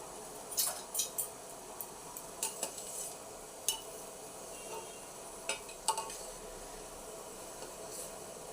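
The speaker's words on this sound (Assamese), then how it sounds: "অলপ সময়ৰ কাৰণে উতলি থাকিব দিম এনেদৰে মই আৰু মাজে মাজে লৰাই থাকিম" Sugar syrup for boondi laddu simmers in a pan with cardamom, while a utensil clinks against the metal now and then in sharp, scattered taps over a soft bubbling background.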